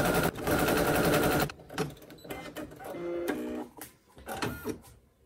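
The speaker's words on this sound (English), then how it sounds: "it's going to sew the S and the B on the embroidery side" An embroidery machine stitching letters in the hoop for a needle minder project, a loud mechanical rattle that runs in bursts with short pauses between stitching runs.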